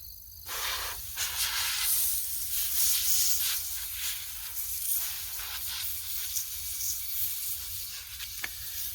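Brake cleaner hissing from a nearly empty spray can, a close breathy spray that sputters and pulses unevenly over several seconds, with no talking.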